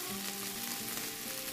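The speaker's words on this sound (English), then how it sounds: "So the ginger garlic paste has been getting sauteed and for last 2 minutes or so" Ginger garlic paste sautés in a pan for egg puffs, a soft, steady sizzle with a faint hum underneath.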